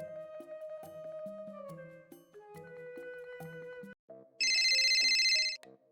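Telephone ringtone for an incoming call, a bright electronic melody of repeated stepped tones, followed after a short gap by a louder, harsher buzzing ring tone, clear and close with no voices.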